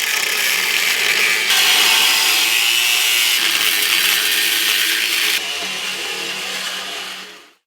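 A power tool cuts into a Land Rover chassis with a loud, harsh, continuous grinding buzz that shifts pitch a few times as it bites into the metal, then winds down and stops at the end, with no talking.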